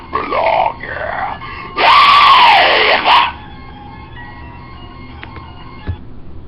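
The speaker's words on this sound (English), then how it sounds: "that was actually Warlock, who screamed, "Leave"." A horror game character lets out a harsh, distorted scream in Five Nights at Freddy's 4, two short bursts followed by a longer, louder cry, then a quiet electronic drone with faint clicks.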